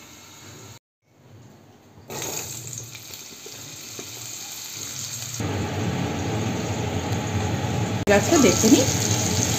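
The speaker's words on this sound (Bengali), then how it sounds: "এইভাবে একে একে সব সবজিগুলো ভেজে নেব" Vegetables frying one after another in hot oil for a Bengali fish-head chhyachra, a steady sizzling hiss that swells louder partway through, with a brief voice speaking over it.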